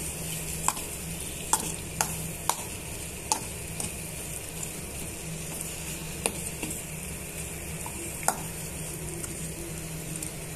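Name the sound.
stirring and mixing chicken fry in a pan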